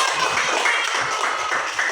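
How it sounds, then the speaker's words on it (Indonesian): Children in an Indonesian primary school classroom applaud together, a steady, fairly loud wash of many small hands clapping for a couple of seconds with no pause. "Ya, kasih tepuk tangan."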